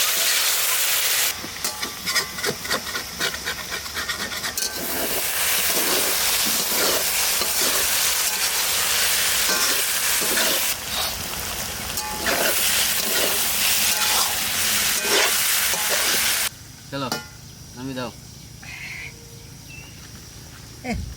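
Wild mushrooms gathered from the forest frying in a wok, a loud steady sizzle and hiss with repeated scraping stirs, close up, with voices talking over it in places.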